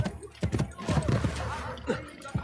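Horse hooves clop in Assassin's Creed Brotherhood, an uneven run of thudding steps with a faint whinny, while someone talks over them.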